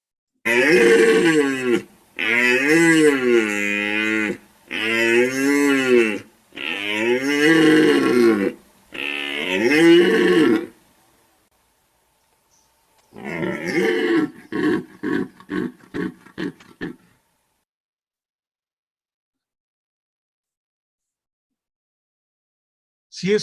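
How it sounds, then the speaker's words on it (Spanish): A recording of a deer bellowing plays: a run of long, loud, drawn-out bellows with short pauses between them, then a quick burst of shorter calls before silence. "¿Cómo está ahí este ciervo en el agua y está clamando ahí, está bramando?"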